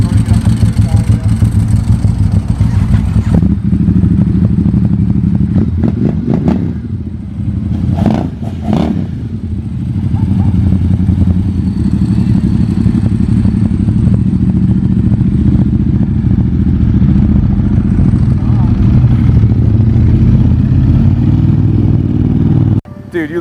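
Motorcycles, among them a new Ducati XDiavel, start up and rev nearby, a loud, steady engine rumble with throttle blips and a short dip midway that carries on for over twenty seconds.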